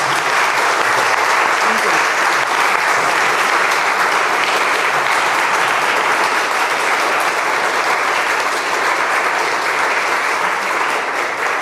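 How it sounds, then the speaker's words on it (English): Sustained applause from an audience at the close of a talk, a dense, even wash of clapping that stays loud and steady throughout, with no gaps or cheering standing out. "Yeah, you can clap."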